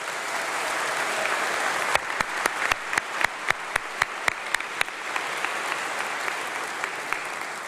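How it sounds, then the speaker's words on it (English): Audience applause for doctoral graduates at a university summer congregation, a steady bed of crowd clapping with a few sharp, close individual claps punctuating it at a quick rhythm. "Let's give them a big round of applause."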